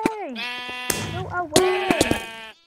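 Sheep bleat in the blocky video game Minecraft, a few wavering calls up close, loud and clear, mixed with other short game sounds.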